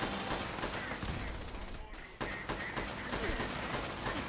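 Turrets fire in Fallout 76, a dense, steady stream of rapid gunfire bursts that runs through nearly the whole stretch, broken by a short lull in the middle, with faint voices mixed underneath.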